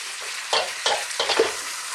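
Bak choy tossed with fried pork in a hot pan makes a soft continuous sizzle, with three or four quick scraping stir strokes close by.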